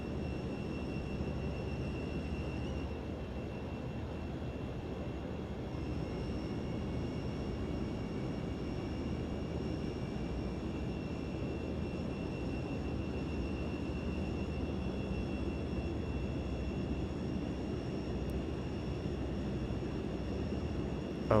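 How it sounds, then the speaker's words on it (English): Steady aircraft engine drone from a flight simulator game, a continuous loud hum with faint high whine tones running throughout, no talking. "And you can see the engines are popping up there pretty good."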